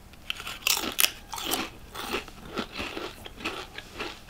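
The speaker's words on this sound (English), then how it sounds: "That's a spicy pickle." Someone bites into a spicy pickle, a crisp crunch followed by several seconds of wet, rhythmic chewing close to the mic, with no talk.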